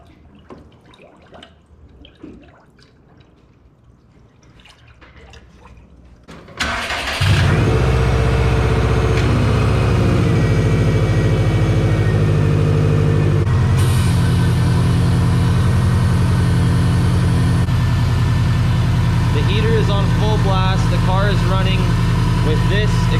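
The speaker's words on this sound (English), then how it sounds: "this is when we're gonna need to let the car idle with the heater on" A Subaru with an overheating problem starts up with a sharp catch, then settles into a steady, loud idle that runs on evenly for the rest of the stretch, close by.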